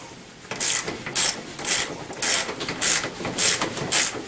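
Ratchet wrench tightening the front wheel bolt on a Tao Tao ATM50A scooter: repeated back-and-forth clicking strokes, about seven close, steady ratchet pulls with no talking.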